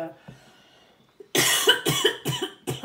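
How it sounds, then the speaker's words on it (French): A series of close, loud coughs, four or five harsh bursts in quick succession after a quiet stretch. "Je tousse un peu."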